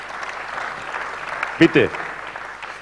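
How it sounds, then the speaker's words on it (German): Audience applause at a 2017 national championship award ceremony for roofers and sheet-metal workers, a steady, dense wash of clapping that runs throughout, with a brief spoken word near the middle. "Einen tollen Applaus"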